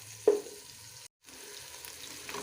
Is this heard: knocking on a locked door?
no